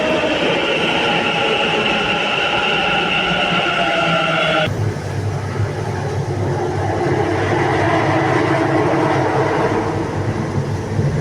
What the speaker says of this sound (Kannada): ನಾವು ಹೋಗೋದು ಮೆಜೆಸ್ಟಿಕ್ಕಿಗೆ ಹೋಗೋ ಟ್ರೈನ್ ಬಂತು